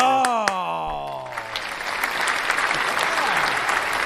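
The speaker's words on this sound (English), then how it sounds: "Dude, applause button." A canned applause sound effect is triggered from a soundboard button on a podcast, swelling into a steady crowd clap and cheer after a man's drawn-out voice at the start.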